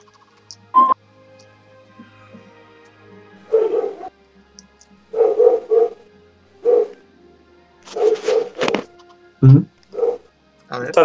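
A dog gives a few short barks and yips during a tabletop role-playing session, sounding close and fairly loud, with people talking in between and quiet music in the background.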